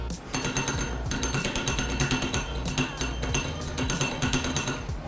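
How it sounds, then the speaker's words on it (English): A Foil Drive hydrofoil motor pulses as a reminder to remove the battery, producing a rapid busy series of mechanical clattering, ticking pulses at steady loudness for several seconds, close and without talk. "The motor will pulse."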